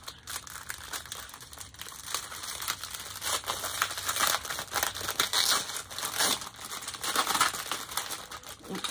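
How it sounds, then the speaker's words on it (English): A plastic bag being handled as its glued seal pulls free, giving dense, crackly crinkling in irregular bursts that runs the whole time, fairly close and moderately loud, with no voices. "The glue part is coming off from the bag."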